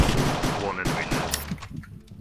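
Rapid bursts of gunfire in a Minecraft version of a Counter-Strike style shooter game, loud and clustered at the start before thinning out.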